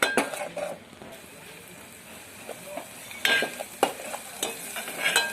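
Dried curry leaves hit hot oil in a pan for Kannada buttermilk saaru, giving a low crackling sizzle, then several sharp clinks and scrapes of a utensil against the pan near the end.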